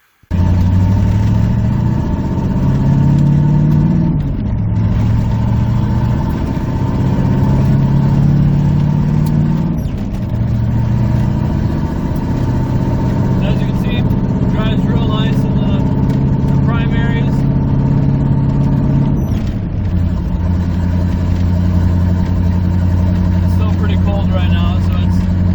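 A car fitted with a rebuilt Holley 4165 carburetor drives at dusk, its engine droning steadily with several rises and falls as it revs and shifts. A voice talks over it intermittently.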